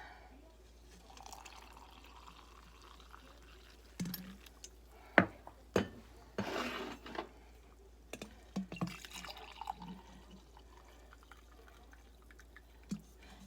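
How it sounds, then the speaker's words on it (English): Water is poured into a glass, giving a short gushing pour and trickle amid scattered clinks and taps against the glass, in an otherwise quiet room. "And then you put the water in."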